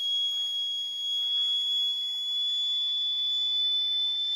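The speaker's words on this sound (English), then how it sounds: "That is an annoying hum." A Joule ringer circuit gives off a steady, thin, high-pitched electrical whine that holds one unbroken tone for the whole stretch. It is faint but constant, with no other sound over it.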